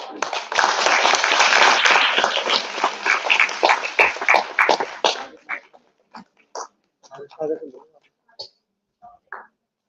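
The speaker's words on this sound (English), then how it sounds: "Please join me in a round of applause." Audience applause at an education conclave, dense and loud for about five seconds after a guest is felicitated, then thinning into scattered claps and brief voices.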